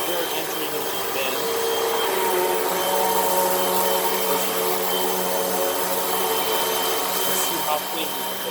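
Hoover Rewind vacuum cleaner running over a carpet: a constant loud motor whine with steady airflow roar and no pauses, while a voice talks over it.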